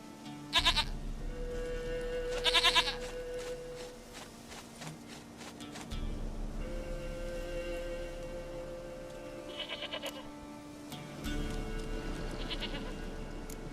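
A goat bleats in The Witcher 3 video game, several separate wavering bleats spaced across the stretch, fairly quiet over a soft background of music and footsteps.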